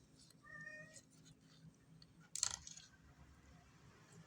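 A cat meows a few times in a quiet room, with one louder, sharper sound partway through.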